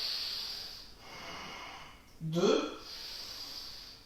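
Slow, audible breaths through the nose during a held Ashtanga yoga pose, a soft hissing inhale and exhale with a louder snort-like breath midway, while an instructor counts aloud over it.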